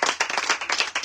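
A church congregation claps in a steady, dense burst of applause, loud and close, with many hands beating together in quick overlapping rhythm.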